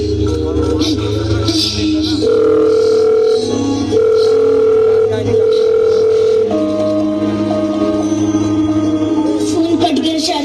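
A loud, steady telephone tone sounds after a call is cut off, held in long even stretches that pause and resume, over background noise at a school event.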